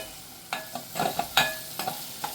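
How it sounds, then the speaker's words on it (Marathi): An onion mixture being stirred and fried in a pan for a Bombay duck dry fish and potato dish: sharp, separate spoon scrapes and clanks of metal on metal over a low, soft sizzle, close and unaccompanied. "आता हे छान असं मिक्स करून घेऊया आपण."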